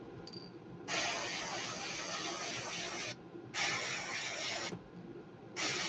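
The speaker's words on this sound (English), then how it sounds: "This stuff is kind of temperamental spraying out of the gun." Spray gun spraying metallic flake paint onto a fishing lure, heard as three steady hissing bursts separated by short pauses, close and fairly quiet.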